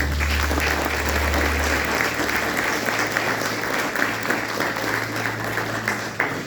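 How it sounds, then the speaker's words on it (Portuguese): A church congregation applauding during a Portuguese-language sermon, dense sustained clapping filling the room steadily from start to finish over a low hum. "Você pode aplaudir Jesus?"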